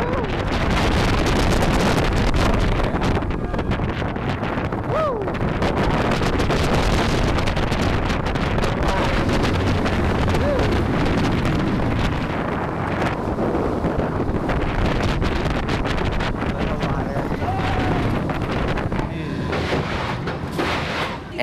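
Strong wind roars loudly and steadily throughout a ride on Griffin, a dive roller coaster at Busch Gardens Williamsburg, a constant buffeting rush with no voices.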